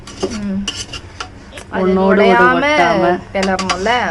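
Metal spoon scrapes and clanks inside a large pot while mutton biryani rice is turned over on a wood-fired stove, a few sharp knocks first, then voices talking loudly over the stirring.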